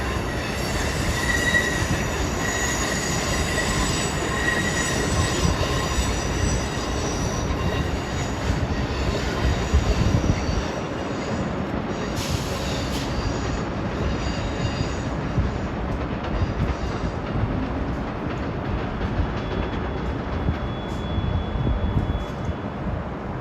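Train 2122 bound for New York rolls past on the Philadelphia-area line, a loud continuous rumble of rail cars with wheel squeal and rhythmic clatter over the tracks, steady for the whole pass with no talk.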